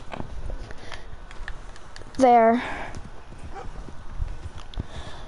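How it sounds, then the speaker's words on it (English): Horse hooves clip-clopping in Red Dead Redemption, a soft, steady rhythmic patter with a brief whinny-like burst partway through, and a person talking over it. "There, I got my white horse."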